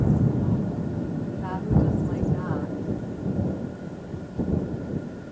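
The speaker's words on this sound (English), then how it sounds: "That's thunder. It's very rare that you hear that here." Low rolling rumble of thunder directly overhead above an exotic garden, steady and heavy, with a person speaking briefly over it and occasional louder swells.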